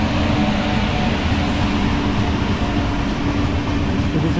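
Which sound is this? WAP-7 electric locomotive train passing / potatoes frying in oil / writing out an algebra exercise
WAP-7 electric locomotive train passing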